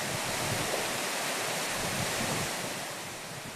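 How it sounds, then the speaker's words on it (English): A mountain waterfall in Bolivia pours down in a steady, dense broadband rush, loud and continuous throughout, fading slightly toward the end, with no voices. "The girls enjoy the waterfall."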